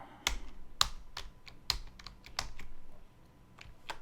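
Keystrokes on a computer keyboard while entering a terminal command, a handful of sharp separated key taps with short pauses between them, close and clear with no talking.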